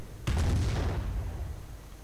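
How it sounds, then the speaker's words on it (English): Mortar fire in a video game, a single deep, heavy boom that hits suddenly and rolls off over about a second and a half into a low rumble. "probably going to repeat the trick with mortar fire on the emplacements"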